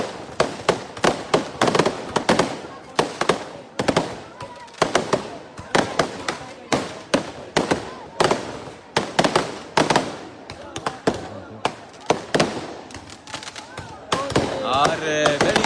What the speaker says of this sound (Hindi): आतिशबाजी होती है मुमताज मरहूम दीरकोट की जानिब से, जीत का जश्न बनाते हुए गाजियाबाद में।